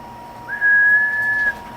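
A thin, steady high-pitched whistle rises briefly over a low mechanical hum, holding for about a second before cutting off, from the fan of a DIY solar generator.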